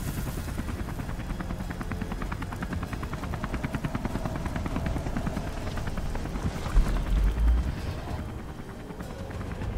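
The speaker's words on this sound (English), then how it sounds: "Take the chopper down." A helicopter in the video game Beyond Two Souls thrums with a rapid, steady rotor chop that stays loud and continuous, while a few heavier low thumps land near the end.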